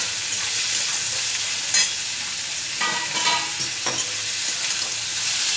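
Prawns fry in a pan with a steady, close sizzle and crackle, while a utensil stirs and scrapes against the pan in a few brief bursts.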